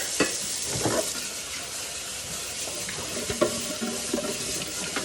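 Tap water runs steadily into a sink while dishes are rinsed, a constant close hiss and splash with occasional clinks and knocks of dishes under the stream.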